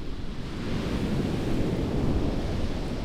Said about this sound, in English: We made it to Rialto Beach, which is overlooking the Pacific Ocean.